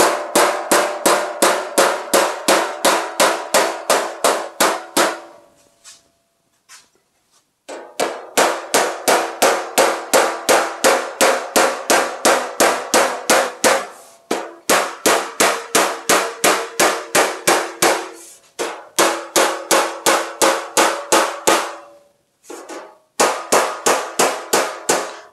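A hammer whacks a steel 1932 Brookville roadster body panel in fast, sharp metallic blows arriving in long bursts of even strikes, separated by brief pauses, close and loud.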